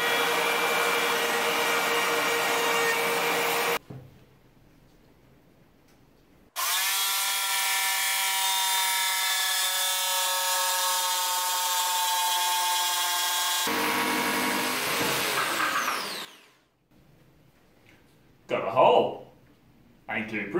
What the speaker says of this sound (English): So let's go overkill. Plunge router.